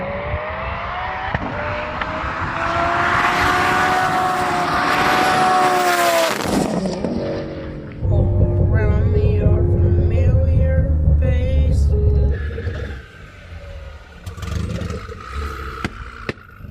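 A Xiaomi SU7 Ultra electric car accelerating hard gives a loud rising whine and rush of road and wind noise, peaking around six seconds, then a steady heavy drone before easing off as someone talks.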